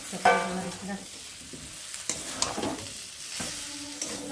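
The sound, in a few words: stir-frying raw jackfruit with fried potatoes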